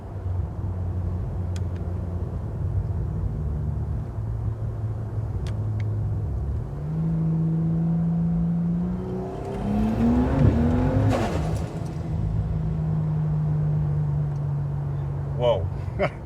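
A car with a G6ET Barra engine and a G40 turbo making around 1150 horsepower idles with a deep rumble, then accelerates hard through rising revs and a gear change before settling back to a steady drone, close to the listener.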